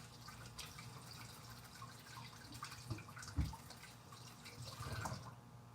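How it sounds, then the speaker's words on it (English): Hands being washed under a running kitchen tap: a faint, steady trickle with a few soft splashes and drips, heard at close range without talk. "Wash my hands again."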